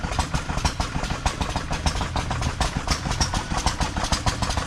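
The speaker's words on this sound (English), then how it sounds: "There's a hit and miss motor running a pump, it looks like." Old hit and miss engine driving a pump at an outdoor antique show, a loud steady low chugging rhythm of repeated thumps heard close and alone.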